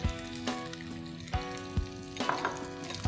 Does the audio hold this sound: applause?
no